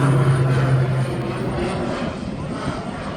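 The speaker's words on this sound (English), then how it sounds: "The Polaris PC-12 next generation is on his way." Steady engine roar of a Pilatus PC-12 NG turboprop taking off from Birmingham International Airport, loud at first and fading slightly, with no talk over it.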